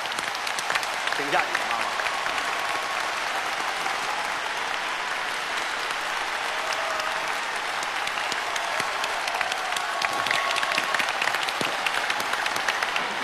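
Sustained applause from a studio audience on a Chinese televised singing show as a singer's mother is welcomed onto the stage, steady and full throughout, with a host's voice briefly heard over the clapping.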